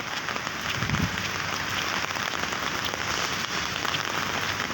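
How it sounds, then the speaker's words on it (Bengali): Steady rain pattering on an empty road in Malaysia, a continuous soft hiss with no voices. "একদম ফাঁকা রাস্তা বৃষ্টি পড়তেছে"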